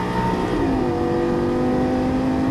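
Lamborghini Gallardo LP-550 engine accelerating hard on a track, a loud, steady rising roar with climbing harmonic tones held close and continuous, no talk.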